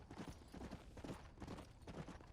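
Horse hooves clip-clop in Red Dead Redemption: Undead Nightmare, a faint, steady rhythmic trot of repeated hoof strikes heard alone in the background.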